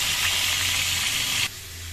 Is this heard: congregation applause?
no